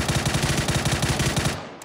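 Rapid automatic gunfire from an extended 30-round magazine rifle in PUBG, a fast even string of loud shots for about a second and a half before cutting off.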